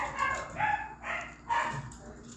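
A neighbour's dog barks in a series of three or four muffled barks and yips, heard from a moderate distance with a slight room echo. There is faint background noise but no clear talking.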